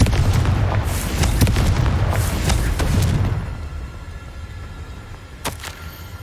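A Confringo spell explosion in the video game Hogwarts Legacy, a loud, sustained booming blast with rumbling crackle for about three seconds, then a quieter fading tail and one sharp late crack.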